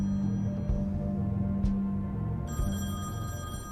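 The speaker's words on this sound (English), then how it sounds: "Please answer the phone." A telephone rings in the detective adventure game The Wolf Among Us, a bright repeating electronic ring over a dense, loud bed of game ambience and low music.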